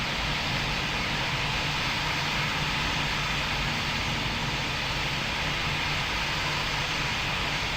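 A steady, loud broadband roar of airliner engines during a takeoff roll in the Pilot Training Flight Simulator game, unchanging and continuous with no voices over it.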